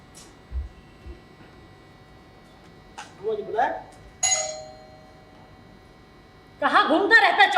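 A doorbell chimes once at a home's front door in a Hindi stage play, a clear ringing tone standing out amid scattered voices and stage noise.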